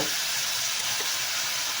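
Vegetables for bistek stir-fried quickly in a hot pan, giving a steady, close sizzle and frying hiss with no talk over it.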